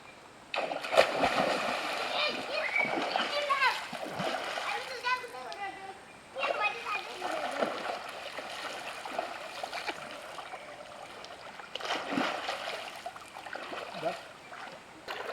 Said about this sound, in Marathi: मस्त नदीवरची मजा घेतोय आम्ही डुबक्या मारतोय